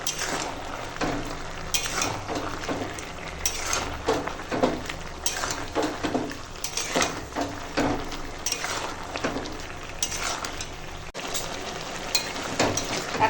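Fried red lentil fritters are stirred into pumpkin greens in a pan, with a steady close sizzle and repeated scraping, clinking strokes of a utensil against the pan, no voices.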